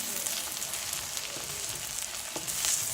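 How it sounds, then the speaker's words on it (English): Moringa leaves sautéing in a pan for an Indian-style dish, giving a steady, close sizzle and hiss throughout with a few soft scraping stirs and no voices. "So just saute it, keep sauteing till it is fully cooked."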